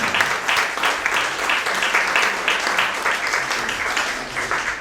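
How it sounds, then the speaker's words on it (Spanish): A crowd at a book presentation applauds the editor with steady, sustained clapping of moderate loudness that continues evenly throughout. "un aplauso para Ricardo Vergara."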